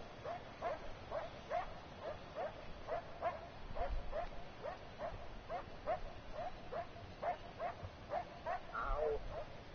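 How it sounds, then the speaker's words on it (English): Dogs in Far Cry 4 yap in a quick, steady rhythm of sharp barks, several per second, moderately distant and continuing without a break. "You can shoot those yapping dogs also"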